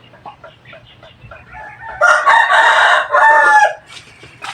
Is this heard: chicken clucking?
yes